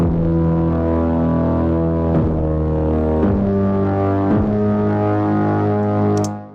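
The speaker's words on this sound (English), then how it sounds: "I have a foghorn kind of synth. I think it's from Labs." A foghorn-like synth patch from Spitfire LABS plays long, deep, droning chords in a song mix, loud and sustained with a few shifts in pitch, fading out at the end.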